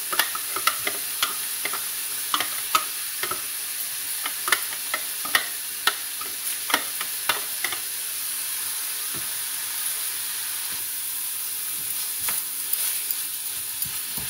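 Onions, garlic and grated carrots sautéing in a pan, a steady soft sizzle with frequent sharp clicks and taps of a utensil stirring against the pan, close and continuous with no talk.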